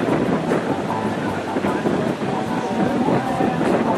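Wind over the sea at a windsurfing event in Liepaja, a dense, constant rushing roar buffeting the microphone, loud and unbroken, while people talk nearby.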